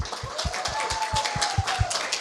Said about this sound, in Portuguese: Palmas para as nossas mulheres.